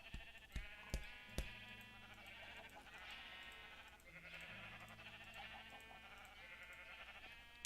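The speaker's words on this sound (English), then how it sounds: "Let's see what happens when we put some sheep in here." Sheep bleating in the Minecraft video game, several overlapping wavering bleats in a steady run after a few sharp clicks at the start, fairly faint with no talk.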